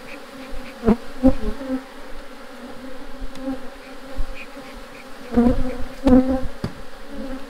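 Honeybees buzz steadily around an open brood nest during a hive inspection, a close, continuous drone with a few louder swells as individual bees pass near.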